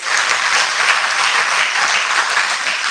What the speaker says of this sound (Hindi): तो फिर तालियां बजाइए